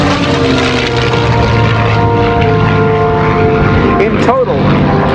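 A P-51D Mustang propeller fighter roars overhead at the 2016 NAS Oceana air show. Its loud, steady engine drone holds throughout and swells into a pass near the end.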